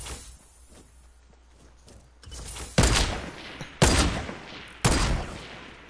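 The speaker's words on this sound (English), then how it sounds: "who's shooting at me?" Gunfire in Fortnite squad playground mode, three loud, sharp shots about a second apart, each with a short decaying tail, after quieter thumps and shuffling movement.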